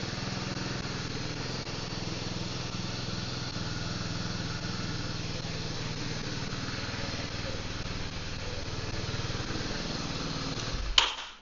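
A Beta Alp 4.0 motorcycle engine running steadily with a boggy throttle, a constant close single-cylinder drone at idle that cuts off abruptly at the end.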